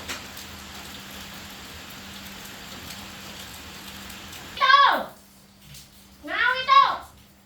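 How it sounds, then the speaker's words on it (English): Rain falls steadily during a storm as a constant, even hiss of drops on surfaces, with two short vocal bursts cutting in near the end. "I don't know when the rain will stop"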